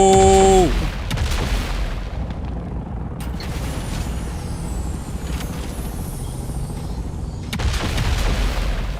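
Rockets fire from Mark 6 scout craft in Dune: Awakening: a heavy, continuous rumble with deep booming hits at the start and the end, and a voice faintly under the noise.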